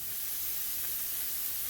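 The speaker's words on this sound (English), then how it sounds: "So I have a large onion that I just sliced up into rings, and I'm going to let these caramelize and get really nice and brown here" Sliced rings of a large onion caramelizing in a pan on a stovetop give off a steady, soft sizzling hiss, even and continuous throughout, with no voices.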